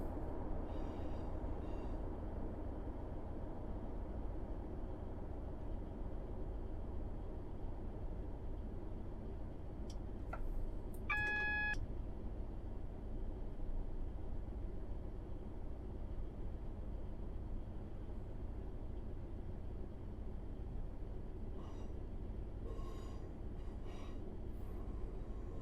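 Simulated train rolling into Manchester Piccadilly in Train Simulator 2020, a steady low rumble throughout with a brief tonal horn-like blip midway and faint clicks near the end.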